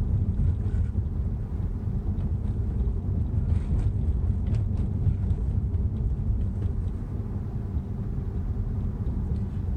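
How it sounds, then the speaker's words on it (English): A Tesla Model S travelling at about 30 mph on a rough side street gives a steady, loud low rumble of road and tyre noise with some wind buffeting, continuous throughout with no voices. "this is Model S on a rougher side street,"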